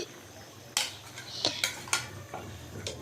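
Fried hilsa pieces go into a curry pan with tomato, giving a few sharp clinks and knocks of utensil against metal spread over a quiet kitchen background.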